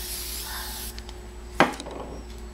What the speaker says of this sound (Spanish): Le ponemos poquito spray nada más.